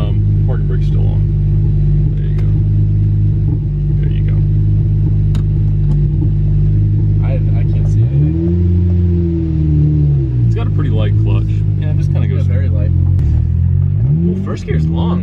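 A heavy car's engine rumbles loudly from inside the cabin, holding a steady drone and then rising and falling as it accelerates through a long first gear.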